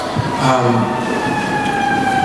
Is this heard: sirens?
yes